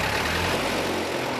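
A 110-year-old racing car engine at Brooklands runs with a loud, steady low rumble, close and continuous over a brief stretch.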